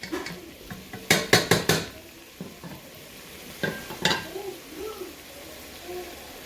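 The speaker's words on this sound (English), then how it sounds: "now we'll go ahead and throw in the beans" Canned beans with their brine tipped into a chili pot, a quick run of sharp metallic clanks and scrapes from can and utensil against the pot, then softer stirring and a low sizzle.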